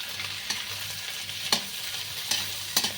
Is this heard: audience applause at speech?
no